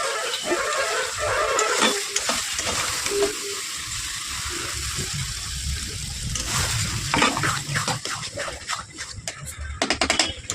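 Marinated chicken with spice paste being stir-fried in a pan for a chicken curry, a continuous sizzle with scraping and stirring clatter, busier toward the end.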